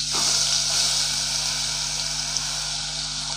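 Mudavattukal root sautéing in hot oil in a pan, a steady close hiss and crackle with a constant low hum underneath and no voices.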